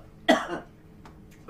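A single sharp cough breaks the quiet, followed by a pause, then the start of another cough or throat noise at the end.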